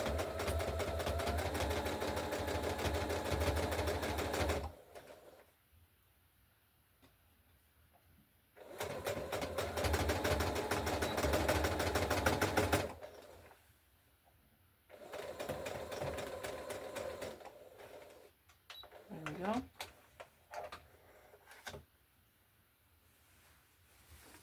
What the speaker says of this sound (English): That's the front sewn back on. Now we'll sew it down the other side.